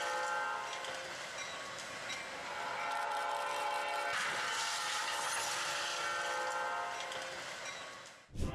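A train rolls past loudly and steadily at a crossing, its horn sounding as sustained tones over the rumble and rail noise, ending abruptly with a brief clatter.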